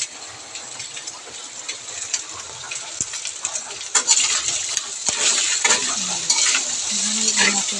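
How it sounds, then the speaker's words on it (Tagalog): Squid balls frying and being stirred in a pan for a birthday pancit meal, a steady close sizzle with scraping stirs that swells louder partway through. "Lutuin natin muna yung squid ball."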